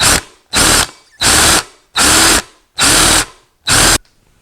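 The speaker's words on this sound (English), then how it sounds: "take our time and drill this down to the depth" Power drill boring holes into an Olds 455 engine part for a serpentine belt conversion, six loud, close bursts of about half a second to a second each, separated by short pauses, with no talking.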